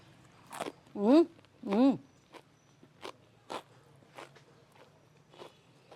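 Two loud crunchy bites into a crispy fried anchovy omelette near the mic, followed by a few softer chewing crackles under a low background hum.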